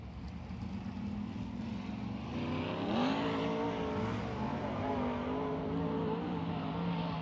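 A sprint car engine pulls onto the Wayne County Speedway dirt oval, droning steadily and then climbing sharply in pitch as it accelerates, loud and sustained with no talk.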